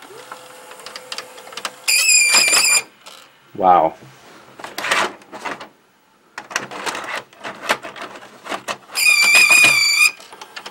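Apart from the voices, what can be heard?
VHS VCR squealing around the capstan and pinch roller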